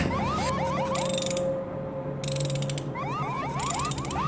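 Wrench ratcheting as an audio drama sound effect, a close, loud run of rapid mechanical clicks in several bursts over a steady whirring mechanical background, with no speech.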